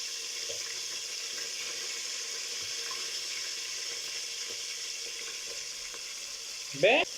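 Onion fries in a pan in a Tunisian home kitchen, giving a faint, even sizzle throughout, with a short sharp chirp near the end.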